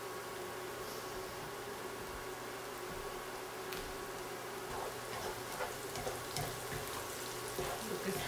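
Onions frying in a pan give a continuous, even sizzle with scattered small pops and crackles, close and steady throughout.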